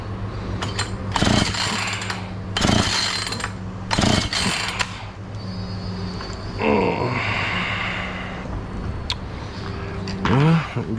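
A Husqvarna chainsaw that is hard to start is pulled and fired repeatedly, giving several loud bursts with gaps between, then a brief rising rev and sputter that dies off, with a person talking faintly in between.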